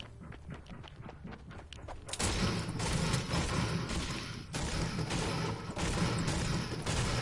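Rapid crunching, thudding blows in a video game as a player's house is broken apart, starting as sparse taps and then swelling around the two-second mark into a dense, loud, continuous clatter that keeps going to the end.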